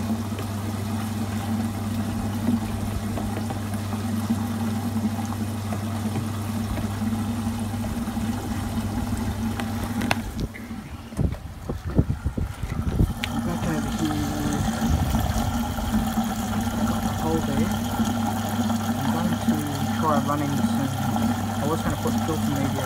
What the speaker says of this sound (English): Getting a little bit of a drain sound